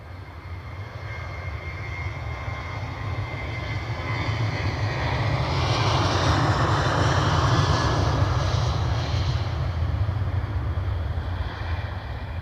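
A Norwegian airliner's jet engines roar during its takeoff run at Edinburgh Airport, a broad, heavy rumble that builds in loudness and then holds steady from a moderate distance.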